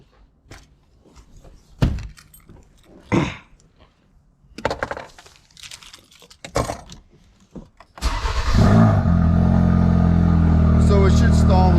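A Ford Focus RS/ST with a high-flow fuel filter and its fuel pump fuse pulled cranks and fires up abruptly into a loud, steady idle after several seconds of scattered handling and footstep noises nearby.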